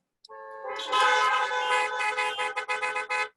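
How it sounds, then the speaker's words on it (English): A car horn honks loudly in a long blast, then breaks into a series of short, choppy toots near the end. "give them a horn honk"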